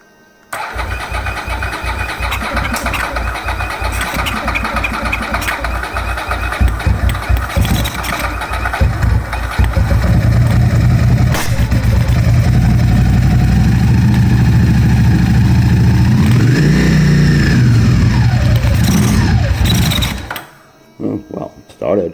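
A Ducati 750SS fitted with Keihin FCR 39 carburettors cranks and fires, then runs loud and close with revs rising and falling before cutting off near the end. Voices can be heard talking.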